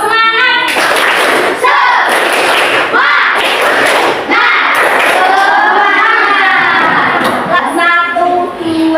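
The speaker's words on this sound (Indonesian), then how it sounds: "tepuk semangat" A primary school class does a rhythmic spirit clap (tepuk semangat), with loud, close groups of claps in patterns mixed with children chanting and shouting together in unison.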